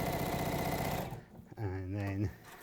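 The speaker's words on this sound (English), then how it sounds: "Okay, now, Garry, you've got about 10 or 11 minutes left on the sewing machine." A sewing machine runs steadily for about a second with a dense mechanical whir, then stops while a voice speaks over a short stretch.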